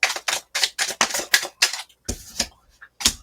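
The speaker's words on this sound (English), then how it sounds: "So let's throw a few cards here." Tarot cards slapped down one after another for a reading, making a fast series of crisp, close snaps in a steady rhythm, then a brief pause and a few more scattered slaps.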